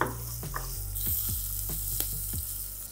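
Finely chopped large onion goes into a hot spiced tempering in a home kitchen, producing a steady bright sizzle broken by regular spoon-stirring clicks and scrapes, close and clear with no talk.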